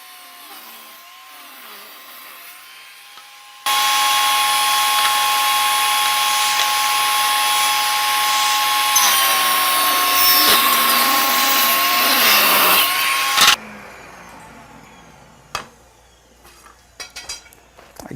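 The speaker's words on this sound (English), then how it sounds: "I'm going to cut some 1/4-inch strips and some 1/2-inch strips out of all these woods" A table saw rips quarter-inch and half-inch strips from assorted hardwoods for cutting boards, a loud sustained whine lasting about ten seconds after a quieter motor hum, then cutting off into scattered clatter and handling noises.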